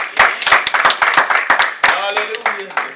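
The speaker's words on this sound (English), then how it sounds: "Clap your hands and give God a praise." A church congregation claps hands in praise during a sermon, a run of sharp, rapid claps close and loud, with voices and singing-like tones rising underneath in the second half.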